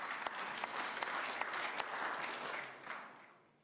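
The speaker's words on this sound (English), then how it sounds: "That's an applause line." Conference audience applause: a hall of people clapping steadily at moderate distance, with a few sharper individual claps standing out, tapering off and fading toward the end.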